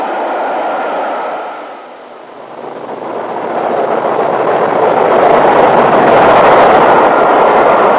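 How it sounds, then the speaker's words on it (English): The northbound Royal Scot express passes on a British main line around 1960–62, a loud rushing roar that dips briefly, then swells and stays close and heavy to the end, with no voices. "This is the northbound Royal Scot."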